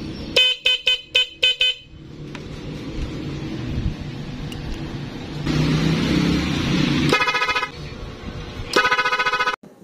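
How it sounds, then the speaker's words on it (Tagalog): A car's stock horn and an added rapid loud dual horn are tested: a quick series of sharp honks opens, an engine idles through the middle, then longer loud blasts sound near the end, nearby and without talk. "subukan uli natin ang stock horn at ang ikinabit nating rapid loud horn"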